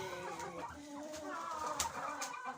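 Hens cluck softly in a backyard coop while being fed a broken egg, a steady run of low, overlapping clucks and calls at moderate distance, faint and continuous with no clear voices.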